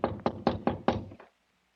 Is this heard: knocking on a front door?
yes